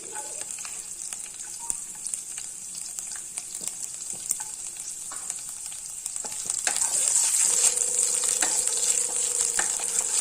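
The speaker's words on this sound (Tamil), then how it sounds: "நல்லா சூடாயிடுச்சு நான் இப்போ வந்து பூண்டை சேர்க்குறேன்" Garlic dropped into very hot oil for vegetable fried rice, giving a constant bright sizzle that swells louder after a few seconds, with light scraping and stirring noises and no voices.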